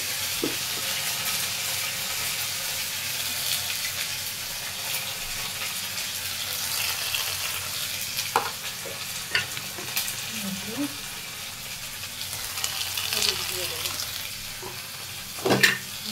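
Ginger and ground cumin fry in a pan while being stirred, giving a continuous close sizzle. Occasional scrapes and clinks of the spoon against the pan break through the hiss.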